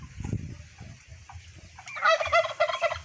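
Pet turkeys gobble in quick rippling bursts at close range, a loud cluster of calls filling the second half, after low rumbling background noise and faint earlier sounds.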